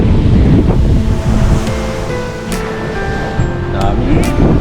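Sea waves wash onto Pulahan Beach on Lubang Island, Occidental Mindoro, a loud and continuous surf roar with wind buffeting the microphone and brief faint voices in the background.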